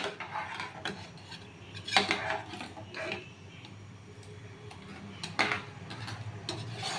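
A spoon scrapes and stirs through sabudana payesh, a sago pudding, in a pot, giving soft irregular rubbing and a few sharper knocks against the metal sides at close range, with no voices.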